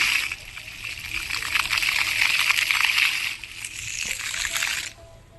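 Water flowing down at Narsinh Mehta lake, a close hissing splash and trickle that runs steadily, dips briefly, then stops near the end.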